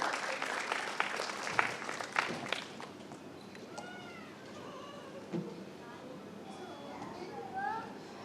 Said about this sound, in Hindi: तो भरपूर तालियों में